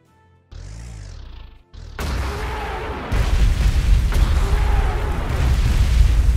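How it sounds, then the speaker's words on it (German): Artillery shells booming in the WWII strategy game Panzer Corps 2, a rising whistle followed by loud, dense rumbling blasts that roll on continuously, heavy and close. "Ah, ich liebe diese Artillerie."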